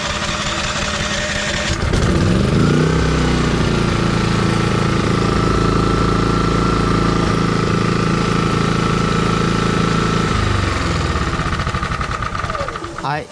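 A GAIDOH GH4500i generator without an electric starter is pulled by its recoil cord and catches on the first try, then settles into a loud, steady engine drone that runs for about eight seconds before easing off.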